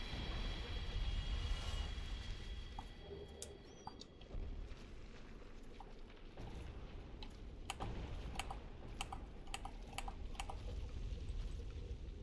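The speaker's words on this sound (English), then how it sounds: "You might hear my controller clicking, but that's just me trying to lock on" Game controller buttons clicked repeatedly during Dark Souls Remastered play, faint scattered plastic clicks over quiet background hiss, with soft bird-like cooing mixed in.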